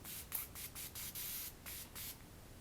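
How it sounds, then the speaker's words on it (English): Chanel Hydra Beauty Essence Mist setting spray hisses out in about seven quick, close pumps, each a short bright burst of mist with brief gaps between them. "Today, the very last step is setting spray. So I'm going to use my Hydra Beauty Essence Mist."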